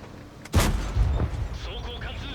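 A Japanese STB-1 Tier 10 medium tank's gun fires once in World of Tanks on the Pilsen map, a sharp loud boom followed by a second thump and rumbling, clattering aftermath.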